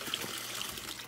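Water runs steadily in a faint, close trickle with a continuous airy splash and no voices.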